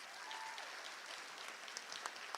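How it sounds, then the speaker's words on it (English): An audience applauds a band after their performance, a steady wash of clapping held at a moderate, fairly distant level throughout, with a few sharper claps standing out near the end. "Let's give another round of applause for them, please."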